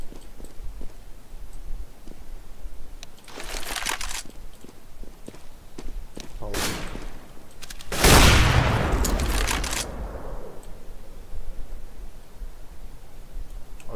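Gunfire from an AWP sniper rifle in the Counter-Strike video game: loud bursts around the middle over steady game noise and footsteps, with no talk.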